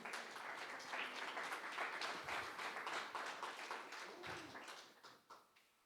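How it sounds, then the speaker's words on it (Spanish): Loud, dense applause from an audience for the multimedia team, a continuous wash of many hands clapping that thins out and fades toward the end. "Puedes darle un fuerte aplauso a multimedia"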